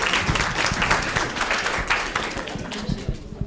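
An audience at a Kenyan AI town hall applauds a correct quiz answer, a dense round of clapping that is steady and fairly loud across the room before tapering slightly at the end.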